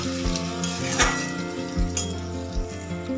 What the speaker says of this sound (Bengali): আলুটা পেঁয়াজটাকে একটু ভালো করে ভেজে নেব